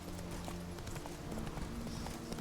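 Roach, the horse in The Witcher 3, gallops with a faint, rapid clip-clop of hooves that stays quiet and steady throughout.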